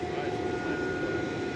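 A UPS heavy jet taking off from runway 18 left at DFW Airport, its steady engine roar droning continuously at a distance with a faint tonal whine, with no change in level over the short stretch.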